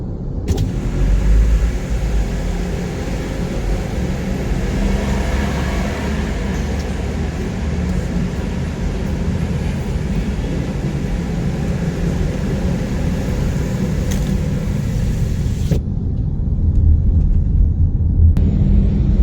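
A BYD M6 car cruises along a toll road, giving a loud, steady interior drone of road and tire noise with a deep rumble, unbroken for nearly twenty seconds with no voices.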